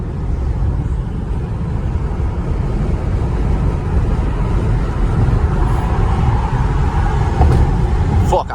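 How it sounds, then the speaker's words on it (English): A Chrysler 300 drives through rush-hour expressway traffic, a loud constant engine and road roar filling the cabin, with a sharp thump near the end as it strikes a pothole. "I dead ass hit the pothole."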